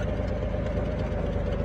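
Steady low rumble of a vehicle engine idling in the Call of Duty Mobile video game, continuous and fairly loud with no talking.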